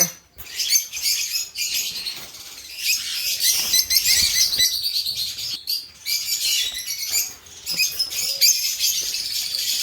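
A pair of African lovebirds in a cage chirp and tweet in rapid, shrill bursts, close and fairly loud, with brief gaps between flurries.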